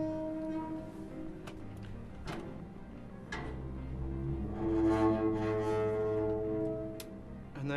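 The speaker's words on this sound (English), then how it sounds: "it's just this. It's, you know, a garbage can lid being manipulated." A garbage can lid being manipulated for video game sound design, giving sustained metallic ringing with a few sharp clanks and a swelling, shimmering resonance near the end.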